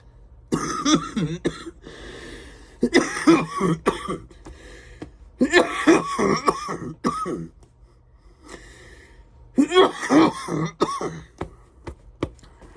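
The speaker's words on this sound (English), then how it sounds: "I keep coughing like that." Repeated coughing and throat clearing from a person coming down with a cold, arriving in several close, loud bursts separated by short pauses.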